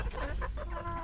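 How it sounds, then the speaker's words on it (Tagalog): White chickens in battery cages cluck and murmur close by in a short, busy burst of overlapping calls, with no talking. "At nandito na rin yung mga manok natin na decaled white"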